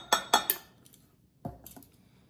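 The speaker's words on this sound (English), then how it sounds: "So into this jar, I'm going to add half a teaspoon of half a teaspoon of garlic powder" A metal spoon clinks against a glass jar while adding garlic powder: three quick bright taps close together, a pause, then two or three softer clinks, with no talking.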